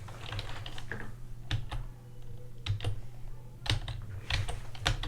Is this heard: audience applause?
no